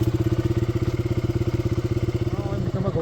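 A motorcycle engine idles just after an electric self-start, loud and close, with a steady rapid thumping pulse that stays even throughout.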